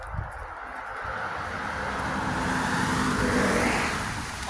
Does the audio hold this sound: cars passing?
yes